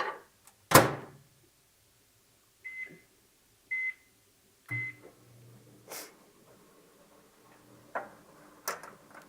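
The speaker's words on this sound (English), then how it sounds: "Back in the microwave." A microwave oven is handled for a quick reheat of toast: a loud door clunk, a few short bright beeps from the keypad, then a low running hum with occasional clicks and taps, heard alone and close.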